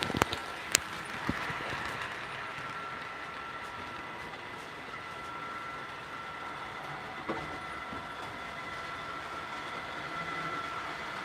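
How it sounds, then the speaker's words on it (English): MTH Rail King Canadian Pacific SW6 switcher, an O-scale model locomotive, runs on a layout with a faint continuous motor hum and rolling rumble, a few light clicks early on, no talking. "It is a Canadian Pacific SW6 switcher by MTH Rail King."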